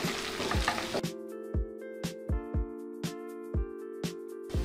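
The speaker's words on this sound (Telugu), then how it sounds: "ఉల్లిపాయలు మగ్గిన తర్వాత మనం కట్ చేసి ఉంచుకున్న పొట్లకాయలు వేసి" Snake gourd pieces and onions are stirred in a pan for a milk curry, a spoon scraping and tapping the metal in a steady series of sharp knocks over a soft sizzle.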